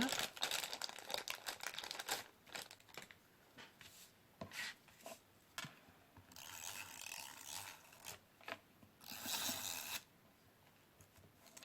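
Roller pressed over glued paper card while making a handmade Christmas card, giving a run of close rolling, crinkling and clicking sounds in bursts that sometimes pause, with no talking.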